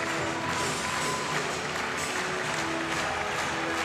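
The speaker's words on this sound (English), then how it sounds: "warm applause here from the crowd" Sustained warm applause from the crowd at a women's EuroLeague third-place basketball game, Sopron Basket against ZVVZ USK Praha, a steady dense wash of clapping lasting throughout with arena ambience.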